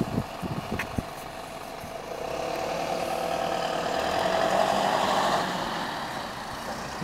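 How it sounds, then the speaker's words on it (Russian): Vehicles slowly manoeuvring past each other in a staff parking lot at a former radio factory site in Luckenwalde, with idling engines swelling into a closer, louder pass midway, a few sharp knocks early on, and no speech. "Друг друга пропустили автомобили."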